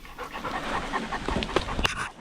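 A dog pants rapidly and steadily up close, quick breathy huffs repeating throughout, with a couple of brief sharper sounds near the end.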